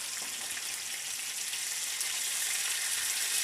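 Katla fish fries in hot oil in a pan while being turned over, with a steady, bright sizzle and spatter that grows slightly louder, close by and with no speech.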